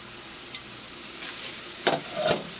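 Onions sizzling in a pot, a steady soft hiss with a few scraping clinks of a spoon stirring them, quiet and close.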